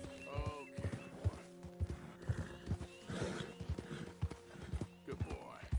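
A horse in Red Dead Redemption 2 whinnies several times as its hooves thud close and loud in an uneven rhythm, with a voice partly mixed in.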